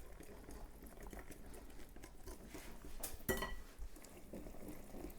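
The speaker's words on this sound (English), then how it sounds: "This whisk is doing a pretty good job of mixing things together" A whisk mixes banana oat muffin batter in a bowl with a faint, steady, rapid clicking patter, rising to a brief sharper clatter partway through, with no voices.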